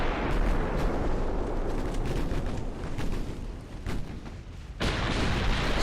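A 14-inch naval gun shell hits in the warship game Ultimate Admiral Dreadnoughts, producing a dense rumbling roar of impacts and gunfire with scattered sharp cracks, ending in a sudden louder burst, and no voices.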